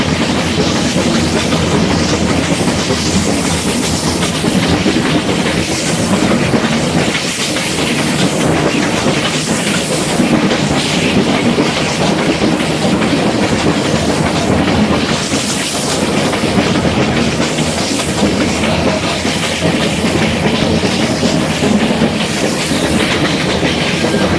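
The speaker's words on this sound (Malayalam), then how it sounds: "ഈ ഒരു സ്റ്റീം എഞ്ചിനകത്ത് യാത്ര ചെയ്യാൻ വേണ്ടിയാണ് കൂടുതലും ആൾക്കാർ ഈ ഒരു Mettupalayam Ooty trip, mountain railway trip choose ചെയ്യുന്നത്" A Nilgiri Mountain Railway steam train runs from Mettupalayam toward Ooty, heard from on board as a loud, steady rumble with rhythmic wheel clatter over the rails and a broad hiss, continuous throughout.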